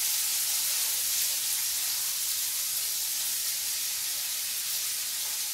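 Langoustine hitting a hot pan sets off a loud, steady sizzle, a bright continuous hiss of searing that holds evenly throughout with no talking.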